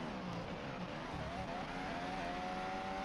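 Formula 1 car on a pole qualifying lap at the 2024 Turkish Grand Prix, its engine droning and rising in pitch as it accelerates, heard fairly faint and steady with no talk.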